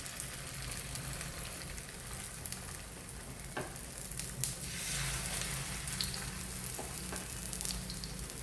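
A burger patty fries in coconut oil over a medium flame, a soft, even crackling sizzle with scattered small pops, steady and unaccompanied by voices.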